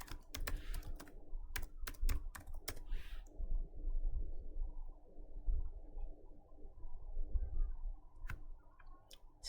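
Computer keyboard typing an SQL query, a burst of quick clicking keystrokes at the start, then sparse isolated taps over a low steady room hum.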